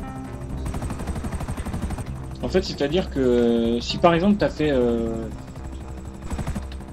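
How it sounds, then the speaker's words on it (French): A helicopter in GTA Online in flight, a steady rapid rotor chop under someone speaking French, with other game sounds mixed in. "l'hélico, comment il saccade là quand tu tournes"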